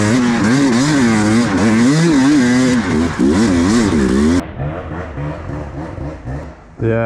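A KTM EXC 300 dirt bike revs hard and close, its engine pitch rising and falling through shifts before dropping to a lower, rougher lugging note.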